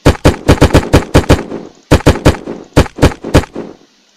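Bursts of full-auto rifle fire from a firearm in the video game Unturned, three rapid strings of loud, sharp shots, each run of eight or so rounds followed by a brief ringing tail and short pauses.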